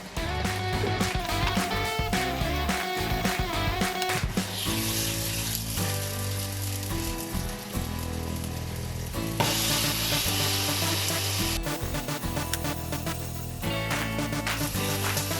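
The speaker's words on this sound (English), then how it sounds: "Then we can fry those ananas." Pineapple slices fry in a hot pan, a dense steady sizzle up close with bursts of crackle and occasional stirring or shifting sounds, no talking.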